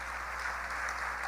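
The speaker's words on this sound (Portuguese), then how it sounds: "aplauda ao Senhor Jesus" Congregation applauding at a church conference, a soft, dense wash of clapping heard from a distance, steady and even throughout.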